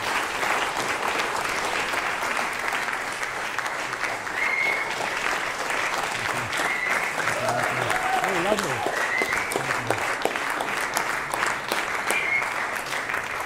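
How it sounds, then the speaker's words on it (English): An audience applauds warmly after an author's talk about his psychological thriller, with continuous close clapping throughout and a brief spoken comment over it. "Well deserved applause."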